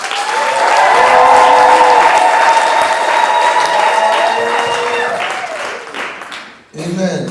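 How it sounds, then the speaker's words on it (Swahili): A church congregation at an ordination ceremony bursts into loud, sustained applause welcoming the bishop, dense clapping with crowd voices mixed in, fading near the end before a brief renewed swell. "Sasa tupige makofi kama tutakaa chini."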